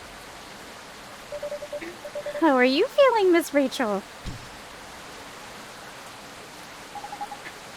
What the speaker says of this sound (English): This rainy season sure is something.